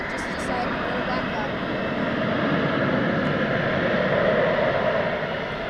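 An Airbus A321neo jet aborts its landing near the runway at DFW Airport and climbs away, a steady broad engine roar holding loud and even throughout, swelling slightly toward the end.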